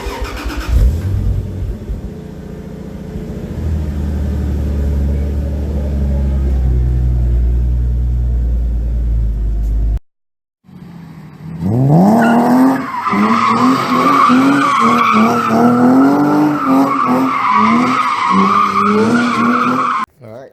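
Lexus IS300 on its original exhaust before a turbo exhaust upgrade: a loud deep rumble for ten seconds, a brief cutoff, then sharp rising and falling revs with tonal exhaust growl through the end.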